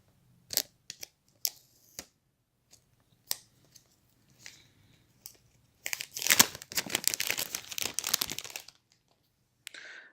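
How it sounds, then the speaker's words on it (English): Unwrapping an iPhone 8 64 GB box: a few sharp crinkles and taps, then several seconds of dense, close plastic-film crumpling and tearing, with quiet gaps and no talking. "Let's unwrap the box."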